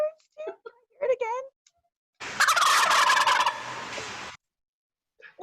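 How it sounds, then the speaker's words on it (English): A wild turkey from Tennessee gobbles in one loud, rapid burst of rattling calls lasting about two seconds, with brief speech-like sounds before it and a faint snippet after. "A turkey?"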